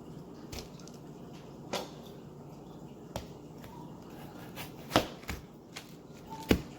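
A knife cuts into an un-sweet watermelon, giving several scattered crisp, wet cracks and thuds at irregular intervals, fairly close and moderately loud over a low room hum.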